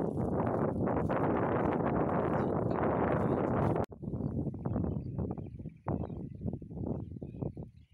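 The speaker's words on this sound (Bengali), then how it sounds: "সুন্দর হাওয়া চলছে" Steady wind buffets the microphone outdoors, a continuous broadband roar with a brief break midway before gusting again.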